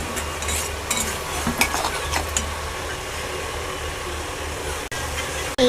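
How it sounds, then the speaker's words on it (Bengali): Half-fried potatoes sauté on low heat in a pan, a continuous low sizzle broken by occasional spatula scrapes and stirs, close and steady with no voices. "আঁচটাকে একটুখানি একদম কম এসে দিয়ে কষতে থাকবো।"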